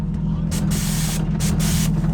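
Two sharp, loud hissing nitrous purge sprays from a Nissan 370Z, each about half a second to a second long, over a steady low engine rumble.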